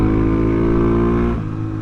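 Kayo K4-250 air-cooled, carbureted four-stroke dirt bike engine running steadily nearby, a loud continuous rumbling drone that eases slightly in pitch near the end, with no talk over it.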